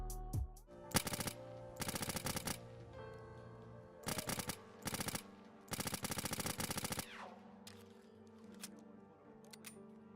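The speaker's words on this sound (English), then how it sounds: "the gun does sound pretty awesome" A modded pistol in Fallout 4 fires in several rapid bursts of sharp, crackling shots, with short gaps between each burst. It is close and loud, with a few isolated pops at the end.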